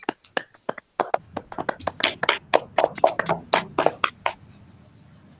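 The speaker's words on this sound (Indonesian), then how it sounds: "Tepuk tangan buat kelompok 1." Young pupils in a first-grade maths class clap their hands for a group, a quick burst of scattered, uneven claps close by.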